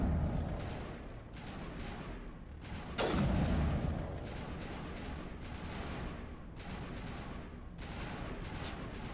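Dense, continuous gunfire in Mass Effect 1 during a fight with Krogan, including a rocket launcher, with rapid shots throughout and a heavier blast around the middle.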